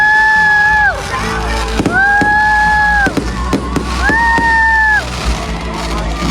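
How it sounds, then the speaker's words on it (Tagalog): Whistling fireworks at a night display at Rancho at Mula de Victoria, Pampanga, rise and fall three times, with dull booming bursts between them over a steady murmuring crowd. "ito na nga yung pangmalakasan at bongga nilang fireworks"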